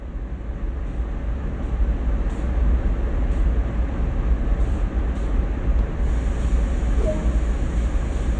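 A CSX heavy-haul freight train in Train Sim World has its brakes applied, heard as a loud, continuous low rumble with a steady airy hiss throughout and no voices.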